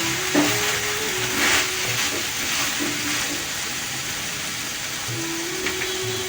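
Pumpkin curry with coriander powder is stirred in a hot pan, giving a steady soft sizzle and hiss with faint scraping movements throughout.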